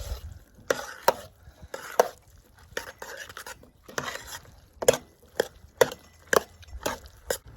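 Vegetables are stirred into a thick curd sauce for piccalilli, giving sharp wooden clacks and knocks against the pan or bowl in an uneven rhythm, separated by softer wet scraping, close up.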